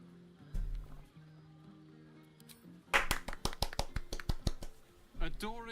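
Applause from a crowd of game characters in a video game: a quick burst of sharp, rapid claps following a spoken line, with a character's voice talking before and after over a low music bed.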